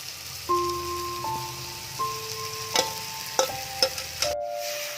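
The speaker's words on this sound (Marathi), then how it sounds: "यामध्ये आता आपण कर्दी परतून घेऊया." Alibag-style prawns with garam masala stirred and sautéing on a hot tawa, a steady close sizzle broken by sharp scraping clicks of the spatula against the pan, with a soft tonal hum underneath.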